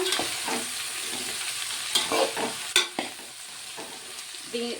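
Chopped broad bean pieces fry and get stirred in a pan, scattered scrapes and clinks of the spoon breaking through a low, steady sizzle, with a few sharper knocks midway.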